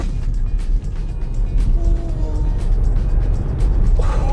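Tesla Model Y electric SUV accelerating hard in standard mode, a steady low road and motor rumble with tyre noise building near the microphone, no talk over it.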